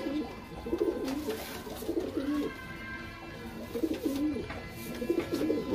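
Udai breed pigeons coo in repeated throaty, bubbling phrases nearby, one bout after another with short pauses, over a faint background hiss.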